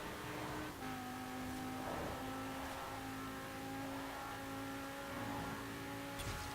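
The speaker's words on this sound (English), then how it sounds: "Luckily this car is no slouch in terms of acceleration." A 2015 Porsche Cayman GTS accelerates in Forza Horizon 4, its engine note droning and rising steadily through gear changes, quiet but continuous with no voices.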